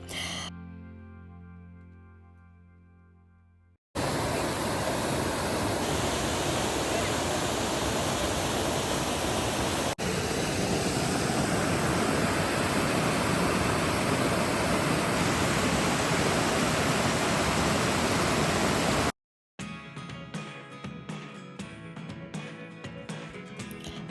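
A Carpathian mountain waterfall in autumn roars as a loud, steady broadband rush for about fifteen seconds. Quieter, different material comes before and after it, with abrupt cuts between the sections.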